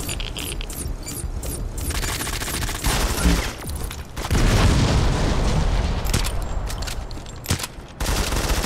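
A grenade blast in the mobile shooter Modern Combat 5 lands amid rapid bursts of gunfire, giving a dense, loud stretch of booms and rattling shots that keeps going with hardly a break.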